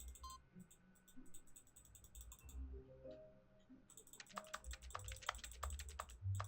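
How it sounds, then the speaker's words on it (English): Keyboard clicks in The Stanley Parable video game, a quiet patter of typing that starts sparse and builds into a rapid, clustered run of crisp keystrokes over a soft hum. "I can literally hear the keyboard clicks, bro."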